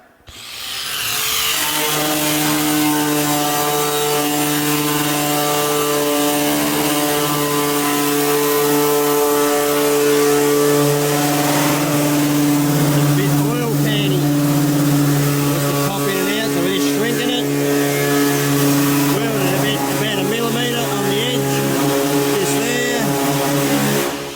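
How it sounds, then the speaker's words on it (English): An angle grinder works a welded steel panel from a truck build back flat, holding a loud, steady high whine with a strong tonal hum and grinding rasp, continuous and close for over twenty seconds. "Now we'll get to grinding it back flat."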